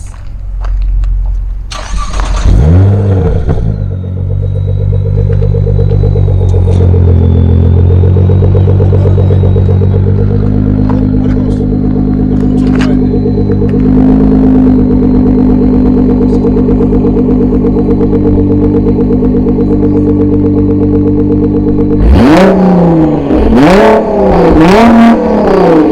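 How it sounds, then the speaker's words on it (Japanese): A sports car engine cranks and catches, settles into a loud, steady rumbling exhaust idle, then revs sharply several times near the end. "今からエンジンをかけてもらってマフラーサウンドを確認したいと思います。"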